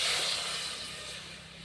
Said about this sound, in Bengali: কড়াইয়ের মধ্যে দিয়ে দিব জল,